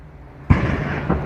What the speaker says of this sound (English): Loud, but fireworks.